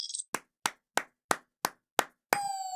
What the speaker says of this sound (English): Cue the applause? You betcha,